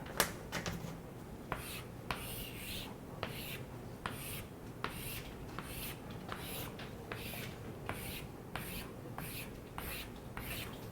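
Chalk or marker strokes drawing a graph diagram on a board during a lecture, a steady series of short scratchy strokes and taps, fairly faint, with a quiet room hum and no speech.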